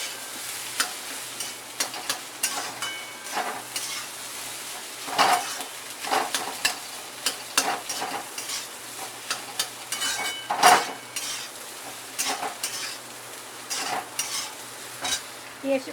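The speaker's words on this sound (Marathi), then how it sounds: "ह्याच्यामध्ये आता मी हा शिजवलेला बटाटा टाकलाय." Spoon scraping and stirring cooked potato samosa filling in a frying pan, a steady run of soft scrapes and clinks over a low sizzle, close up with no talking.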